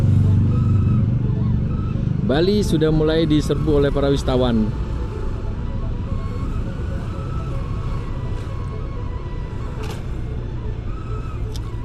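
Heavy traffic of cars and motorcycles crawling along a narrow road in Canggu, Bali, a steady close engine rumble with a brief burst of horn-like tones early on, while someone talks over it throughout.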